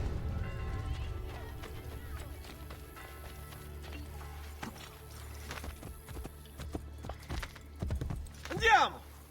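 Horse hooves clip-clop at a running pace through a street in Assassin's Creed: Brotherhood, steady and fairly close, with game voices and ambient noise mixed in and a louder burst near the end.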